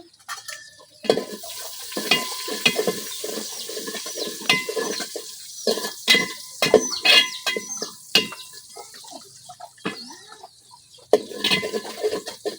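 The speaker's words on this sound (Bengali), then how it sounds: "পেঁয়াজটা হালকা ভাজা হয়ে গেছে, এখন আমি কিছু আস্ত গরম মশলা দিয়ে দিতেছি, তেজপাতা আর গরম মশলা।" Onions fry with bay leaf and whole garam masala in a village kitchen, heard as irregular clanks and scrapes of a utensil against the pan over a light sizzle, the knocks close and uneven.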